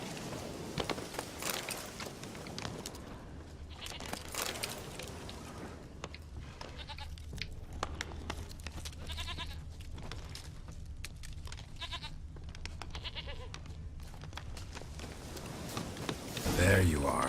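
A goat bleats in The Witcher 3 video game, short wavering calls scattered among footsteps and soft game ambience while someone speaks over parts of the scene.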